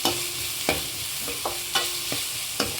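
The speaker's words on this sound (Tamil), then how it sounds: "இந்த வெங்காயம் வந்து நல்லா வதங்கி வரணும்" Onions sautéing with rock salt in a pan: a steady close sizzle broken by several sharp spatula scrapes and taps at irregular intervals.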